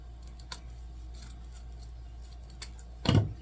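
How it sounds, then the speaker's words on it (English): Scissors cutting Halloween wreath ribbons at an angle, with a few light snips and clicks and then one louder, fuller cut near the end, close up against a low background hum. "I'm going to take and cut these at an angle."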